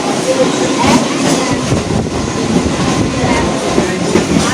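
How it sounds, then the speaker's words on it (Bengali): Trains on the Howrah–Panskura line, rumbling loudly and steadily from close by, with the roar of two trains running side by side and faint clatter throughout. "দেখতে পাচ্ছেন এই ট্রেনটা হাওড়া থেকে আসছে আর এ পাশের দিকে আমরা এখন যাচ্ছি পাশাপাশি দুটো ট্রেন"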